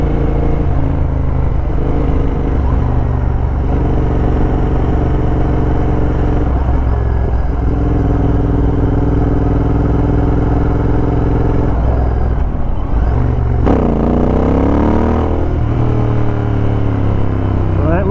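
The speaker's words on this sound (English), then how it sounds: "This bike is so much fun to ride." A Royal Enfield Interceptor 865cc motorcycle with a Domino XM2 quick throttle, heard on the move. A loud, steady engine drone rises and falls through the gears, with a sharp rev change near the end and heavy wind rush throughout.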